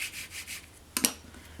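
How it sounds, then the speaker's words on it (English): Bone folder burnishing cardstock, soft repeated rubbing strokes in a slow rhythm, followed by a sharper scrape or tap, all close and fairly quiet with no talking. "You can even burnish it with your bone folder."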